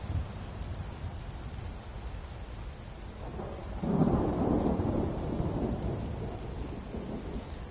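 Steady rain pours throughout in Skyrim, with a deep rolling rumble of thunder swelling near the middle and lingering under the downpour; no voices.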